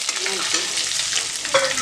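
Chillies and curry leaves sizzle in hot oil for a vatha kuzhambu, a close, steady crackling fry with a brief stirring scrape and a sharper spatter near the end.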